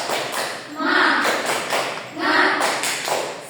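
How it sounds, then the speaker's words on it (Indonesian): A school class performs a rhythmic spirit clap in unison, two strong bursts of patterned clapping with the children's voices chanting along, close and lively. "Tepuk semangat."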